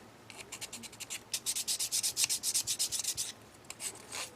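Rapid back-and-forth sanding strokes, a steady rhythmic rasping of a sanding stick on a small plastic part of a Revell 1/72 model kit, close and fairly soft.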